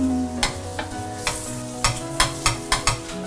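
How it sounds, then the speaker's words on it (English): Aloo paratha sizzles steadily in hot ghee, broken by a series of sharp scraping or tapping strokes from a utensil against the pan. "And as it starts to sizzle, the same on the other side."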